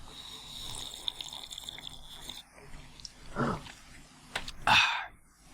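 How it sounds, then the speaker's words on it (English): Water being drunk close to a microphone in a studio, with faint gulps and slurps followed by a louder wet swallow near the end, over a quiet background hum. "you can hear me live on air drinking water"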